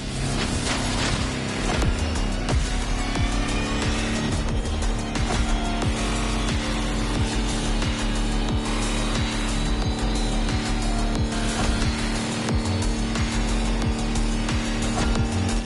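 An electric hyper Lamborghini concept car driving in The Crew Motorfest, a loud continuous whine with engine and tyre noise, occasional squeals and bumps throughout.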